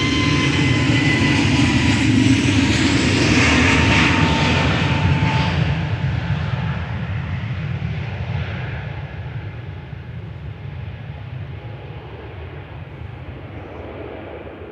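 Jet airliner, one of the newest in its fleet, taking off from Manchester Airport for Tenerife South, a loud broad engine roar that slowly fades as the aircraft climbs away.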